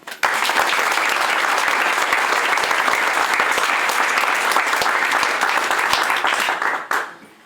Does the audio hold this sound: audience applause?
yes